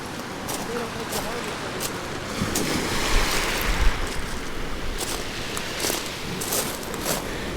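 Surf rolls onto a mussel-shell and kelp beach at Lake Crescent, making a steady broadband wash with a swell near the middle, mixed with wind buffeting the microphone.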